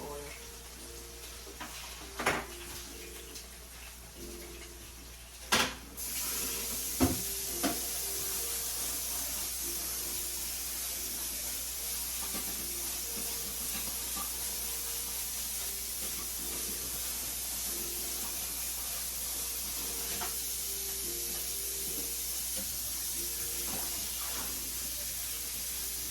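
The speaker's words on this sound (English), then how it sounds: "I'm using canola oil to fry with." Food fries in canola oil with a steady, faint, continuous sizzle and hiss, broken by a few soft clinks and knocks near the start.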